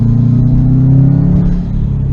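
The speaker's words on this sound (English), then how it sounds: "I don't know what it is about Subarus, but when you accelerate, you got turbo spool." A 2005 Subaru WRX STI with a modified downpipe accelerates close by, a loud low engine rumble with a rising turbo whine layered over it, with no talking.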